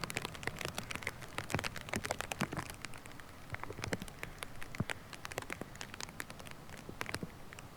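Rain falls on a disc golf course at Lakewood King County Park in Seattle, making a dense, steady patter of close drops and crackling taps with no one talking.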